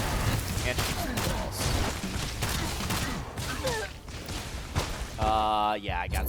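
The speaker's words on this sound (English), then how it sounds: "Yeah, I got stuck in between two explosions there." Explosions and gunfire from the video game Kill the Crows: The Crimson Moon Rising, dense rapid blasts and shots packed continuously throughout, loud and busy, ending with a ringing tonal burst near the end.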